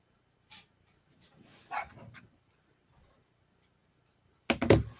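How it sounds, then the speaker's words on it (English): A few short, sharp dog barks, spaced apart with quiet gaps between them, then a louder burst of barking near the end. "That dog is barking to come in."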